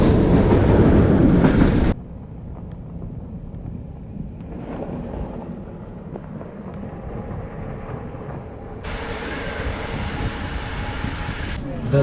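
Inside a moving train in Transylvania, Romania, a steady rumbling clatter of wheels and rails runs throughout, with louder bursts of wind noise from open windows at the start and again later.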